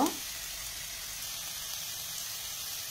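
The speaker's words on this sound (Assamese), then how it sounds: "ঘিউ লৈ তাতে ইলাচিখিনি ভাজি লম।" Cardamom pods frying in ghee for carrot halwa, a soft steady sizzle heard close and faint, continuous after a brief louder clatter at the very start.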